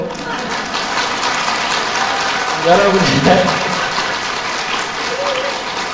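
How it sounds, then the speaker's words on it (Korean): Energetic clapping from a church congregation at a Catholic shrine gathering, a dense continuous patter filling the hall, while a speaker's voice briefly rises over it. "은총 받으려면 박수 치려면 화끈하게 치고"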